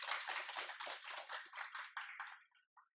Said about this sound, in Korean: 도움 되셨으면 모두를 위해서 박수 한번 치고 마칠까요?